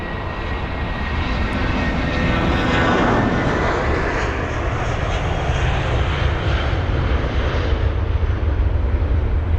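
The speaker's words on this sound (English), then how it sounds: "We have got the British Airways jet also on departure." A British Airways Airbus A320-200 jet departs Heathrow with a loud, steady engine roar that swells slightly and stays dominant throughout, heard from a distance with no talk.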